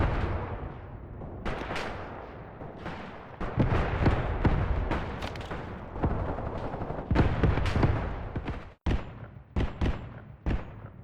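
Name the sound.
82mm mortar fire in the video game Graviteam: Pivot Point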